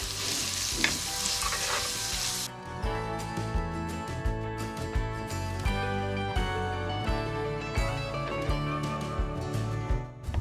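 Sliced onions with cardamom and cinnamon frying in a pan for ilish polao: a bright sizzle at first, then quieter frying under steady tonal music for most of the stretch.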